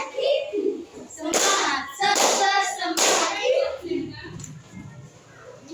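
A group of voices, including children's, chants a rhythmic cheer punctuated by three loud bursts of many hands clapping together, with shouted chanting between and after the claps.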